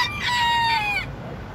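A Bantam chicken of the Talisayin or binabaeng hiraw breed crows once, close and clear, in a single strained call lasting about a second before cutting off.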